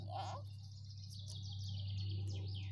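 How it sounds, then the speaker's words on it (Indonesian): Several birds sing and chirp in a forest in Austria beside wheat fields, with high twittering phrases repeating steadily over a constant low hum. "Suara burungnya lagi berkicau ria"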